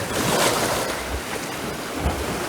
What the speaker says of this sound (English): This water pulls back a little bit.